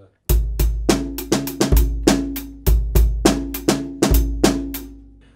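The first part of a hip hop drum beat plays on its own. Deep kicks and sharp snare hits repeat in a steady groove, close and fairly loud.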